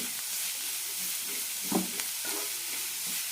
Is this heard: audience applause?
no